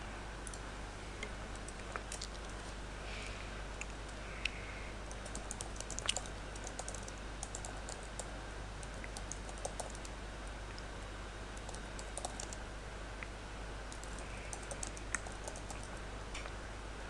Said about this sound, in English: let me type the comment in full reply.